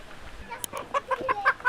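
Rhode Island Red chickens cluck close by, a handful of short, choppy calls in quick succession over faint background noise.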